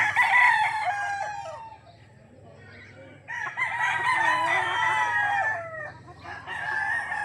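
Backyard chickens in warm weather call and crow repeatedly, near and fairly loud, in overlapping drawn-out bursts with short pauses between them.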